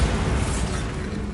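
A Bombarda blasting spell in Hogwarts Legacy on PS5 lets out one loud, dense explosive roar that holds for a moment at close range, with no voice over it.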